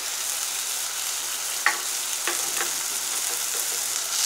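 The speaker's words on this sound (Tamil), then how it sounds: "ஸ்லோ ஃபயரில் வச்சு வதக்கிடுங்க" Tomatoes sauté over a slow fire in a pan, a steady close hiss of frying with a sharp clink and a few light stirring scrapes partway through, no talk.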